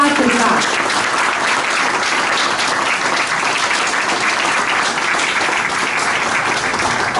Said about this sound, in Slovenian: In naš prvi glasen aplavz je namenjen podjetju Pirnar d.o.o. za vhodno steno teatrika